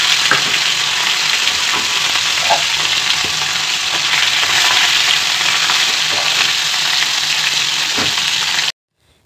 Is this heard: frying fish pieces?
yes